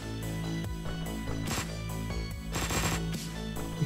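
Uzi spray fire in Hotline Miami 2: Wrong Number, a burst of rapid gunshots under a continuous music bed, with dense clusters of sharp cracks around the middle and later part.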